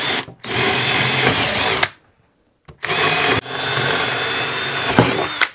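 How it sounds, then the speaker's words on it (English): A power drill boring weep holes in the wood of a swarm trap whirs loudly in two long runs, briefly stopping and starting between them, with the motor whine staying close and steady. "just drill a couple weep holes in there in the corners."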